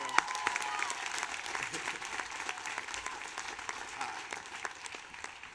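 Crowd applauding graduating students at the Wheaton College 2019 commencement ceremony, a sustained patter of many hands clapping at moderate distance, steady throughout.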